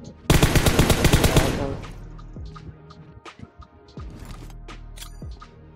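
Burst of rapid automatic gunfire in PUBG Mobile squad play rattles loudly for over a second, then scattered single shots and small clicks follow more quietly in the background.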